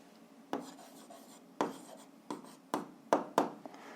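A pen jots down a short answer for an algebra exercise, about half a dozen crisp scratchy strokes on paper at uneven intervals, close up and without speech.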